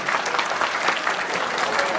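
An audience applauds Mr Baloyan at a concert-lesson given by a youth orchestra of national instruments in Sevkar village. The clapping is dense and steady and fills the whole moment at an even level.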